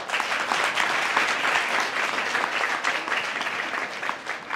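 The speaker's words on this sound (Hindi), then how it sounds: "आप अपने लिए एक ताली बजाओ।" A room of volunteers at a female hygiene awareness session claps steadily for several seconds, dense and even applause close by with no talk over it.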